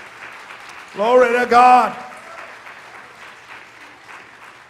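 A church congregation claps together in a burst of lively applause lasting about a second, while a preacher's voice calls out over it, then quieter room tone follows.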